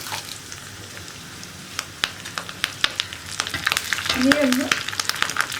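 Dried red chillies and curry leaves hit hot oil with browning onions for tomato pachadi, giving a close frying hiss with popping crackles that grow busier and louder toward the end.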